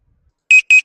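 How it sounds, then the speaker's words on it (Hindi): An alarm sound plays as a preview, with sharp, loud electronic beeps: two full beeps and the start of a third, evenly spaced after a moment of silence. "एक अलार्म साउंड डाउनलोड कर लेते हैं,"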